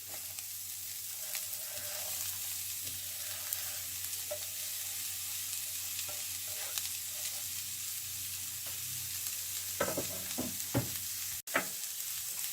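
Cut French beans frying in a pan with an onion tempering, a soft constant sizzle with scattered stirring scrapes and a few sharper knocks near the end, close and without talk.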